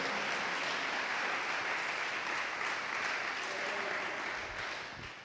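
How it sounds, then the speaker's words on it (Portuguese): Warm applause for actors at a church gathering, steady dense clapping from the congregation that fades out toward the end. "Uma salva de palmas para os nossos"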